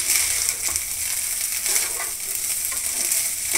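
Egg fry sizzling in a pan on the stove, a steady close hiss of frying with soft stirring scrapes and small crackles throughout, no voices.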